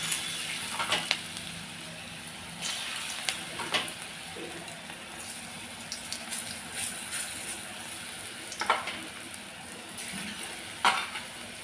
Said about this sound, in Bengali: গ্যাসটাকে কমিয়ে দিয়ে হালকা আছে ভাজাভাজি করছি যাতে বেশ সুন্দর কর্মরা আর মুচমুচে হয় খেতে